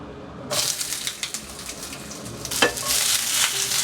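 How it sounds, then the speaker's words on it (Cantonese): Hot oil bursts into a loud sizzle as a cutlet starts frying. The sizzle crackles steadily, then flares louder partway through. "每面啦就煎佢啦，大概2分鐘左右。"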